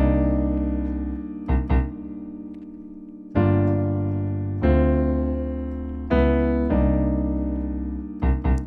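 Piano playing sustained chords in a simple, easy arrangement of a song, the left hand repeating a steady rhythm; roughly six clear chord strikes ring out and decay, close and alone with no talking.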